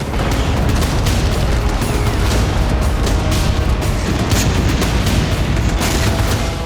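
Russian FAB-1500 guided glide bomb explosion, a dense, continuous roar of booming blast noise at full loudness throughout, with no pauses or voices.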